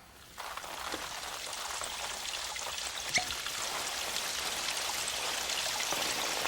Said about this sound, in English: quickly remove the tape and watch the streams that shoot out